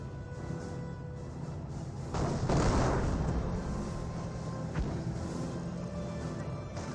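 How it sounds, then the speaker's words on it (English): Mortar fire in the Company of Heroes 1 real-time strategy game, one heavy booming impact with a rumbling burst, followed by a fainter thud, over a steady battlefield ambience with no talking. "Bergantiga now receiving some mortar fire"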